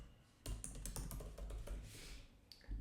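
Rapid keystrokes on a computer keyboard while code is typed, a close, uneven run of clicks and taps with a brief pause, no talking.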